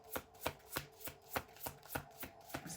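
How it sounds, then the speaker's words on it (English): Tarot cards being shuffled, a quiet, evenly spaced series of about nine soft riffling snaps close by, with no talking. "Let me just get a couple more cards,"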